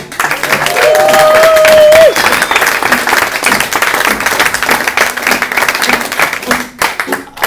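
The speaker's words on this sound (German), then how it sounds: "Ein Applaus für den Steinbruch." Sustained crowd applause with dense clapping throughout, a short whistling tone rising over it early on, then continuing evenly to the end.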